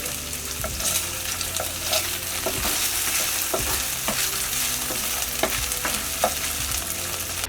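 Shrimp stir-fried over high heat hiss and crackle in a pan, the constant sizzle punctuated by quick scrapes and taps from a spatula as the pieces are tossed.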